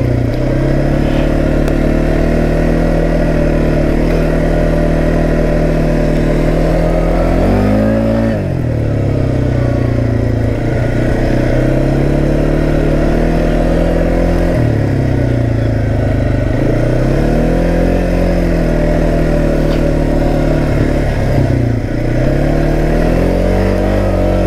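A Kymco Maxxer 450i ATV engine runs on a trail, loud and close, its drone rising and falling through repeated revs and accelerations over roughly twenty-five seconds, with no voices.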